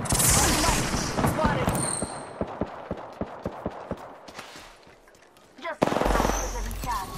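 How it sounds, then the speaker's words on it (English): Gunfire in Apex Legends, a rapid string of sharp shots through the middle with loud bursts at the start and end, under voices and game noise. "Listen up, I'm getting shot at."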